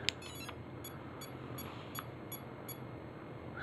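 A Castle Creations ESC powers up with a series of short, high electronic beeps spaced at a steady rhythm, quiet and set against a low background hum.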